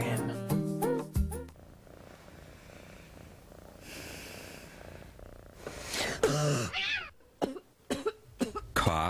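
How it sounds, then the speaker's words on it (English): Coughing in a cough medicine TV commercial, several loud harsh coughs up close at the start and more bursts near the end, with a quieter stretch between. "Cough waking you up in the middle of the night?"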